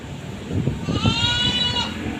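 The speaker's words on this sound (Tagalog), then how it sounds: "Nakayan yung tupa oh." Sheep bleating close by on a farm, one drawn-out wavering call over low rustling and background murmur, with faint voices nearby.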